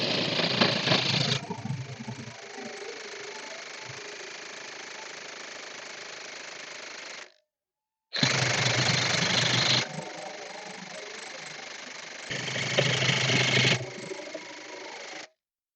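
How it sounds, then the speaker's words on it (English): DeWalt DCF899 cordless impact wrench hammering hard on tight bolts, a loud, steady rattling buzz held for about seven seconds, a brief pause, then a second long burst that swells louder near its start and again near its end. "So oh man, talk about some vibration."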